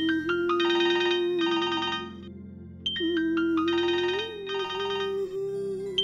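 A phone ringtone plays in repeated bursts of bright electronic chiming over a steady sustained tone, sounding twice in a row at moderate volume with no talking.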